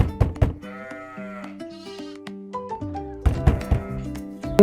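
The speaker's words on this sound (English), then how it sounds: "It's a sheep." Sheep on a farm bleat in a few wavering, nasal calls, fairly close and clear, alongside sustained tonal sounds and sharp knocks at the start and end.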